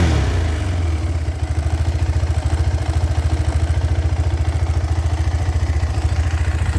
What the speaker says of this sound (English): Okay, it's in neutral. Let me turn it on. Let's listen to how it sounds.